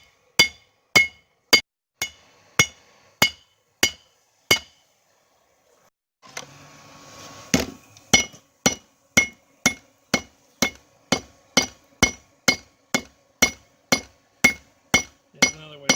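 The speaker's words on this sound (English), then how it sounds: "another way of following is hitting with the corner of your hammer" A hammer strikes hot metal on an anvil during an outdoor forging session, loud ringing blows in a steady rhythm, pausing briefly for a hiss before the regular strikes resume.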